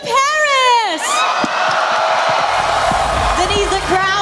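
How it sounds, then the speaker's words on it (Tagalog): A large crowd at an esports match roars and cheers wildly, a dense continuous wall of shouting with shrill whoops on top, loud and close throughout. "the crowd is going wild"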